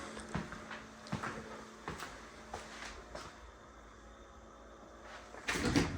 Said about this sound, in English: Slider door closet.